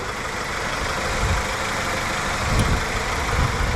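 A Honda SMX three-door van's engine idles steadily with a soft, even rumble close to the microphone, running alone without talk.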